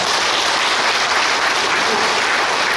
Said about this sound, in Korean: 여기도 우리 신부님께 박수!